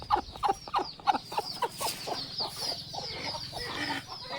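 Chickens at a coop with a brooding hen, chicks and a rooster cluck steadily and close by, with overlapping rapid clucks forming a busy, continuous chatter.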